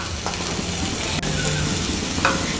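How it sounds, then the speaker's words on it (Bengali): Boiled potato is mashed together with spices in a hot pan, with a continuous sizzle and scraping stir strokes close by. "এবার সেদ্ধ আলুটাকেও ভালো করে এইভাবে ম্যাশ করে নিতে হবে।"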